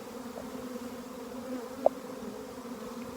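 Bees swarming around hive number 9 make a steady, close droning buzz that holds level throughout, with one brief sharp tick near the middle.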